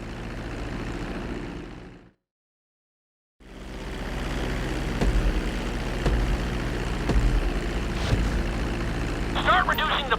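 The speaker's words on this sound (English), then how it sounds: "Now I'm going to have you attempt a safe landing on the runway." Airplane approaching a runway to land in GTA V, a steady engine drone with a sudden two-second dropout before it resumes, a few sharp clicks and some chirping near the end.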